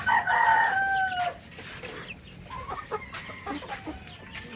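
A rooster crows loudly near the start, followed by softer scattered clucking and rustling from chickens close by.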